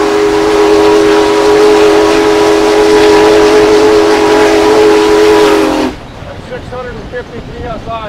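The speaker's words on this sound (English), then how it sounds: "you can hear the whistle blow 100 miles" Union Pacific's Big Boy steam locomotive blows its whistle, with steam at about 700 degrees and 300 pounds, in one long, loud, steady blast that cuts off abruptly, leaving a quieter hiss.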